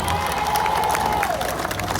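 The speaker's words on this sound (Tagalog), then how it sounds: "Pwede ba palakpakan natin yung mga staff natin?" A crowd applauds and cheers for the staff at an outdoor Christmas food distribution, a continuous wash of clapping and voices with a sustained tone running through it.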